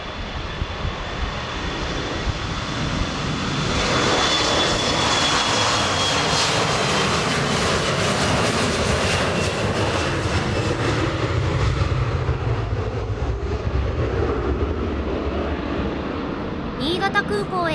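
A JAL Embraer 170 jet roars through its takeoff run at Osaka Itami Airport in stormy weather from a tropical depression, loud and sustained for many seconds, rising and then slowly fading.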